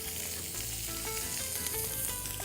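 Fish frying in a greasy pan with butter and tequila nearby, a steady, dense crackling sizzle with no voices.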